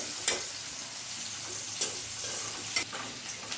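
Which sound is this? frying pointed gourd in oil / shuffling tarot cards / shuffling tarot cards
frying pointed gourd in oil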